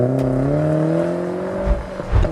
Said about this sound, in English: a naturally aspirated Bavarian straight 6 ripping to the rear wheels with a sweet 5-speed manual